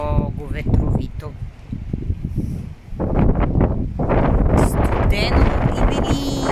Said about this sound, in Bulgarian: много ветровито.